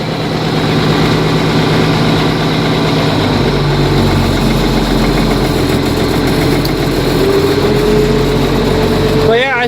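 A tractor engine idles close by with a steady low rumble and a constant mechanical drone that continues throughout.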